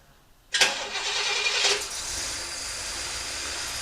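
A 1966 Oldsmobile Toronado engine cranks and catches abruptly when started by remote auto start, with a loud surge of revving that then settles into a steady, close idle.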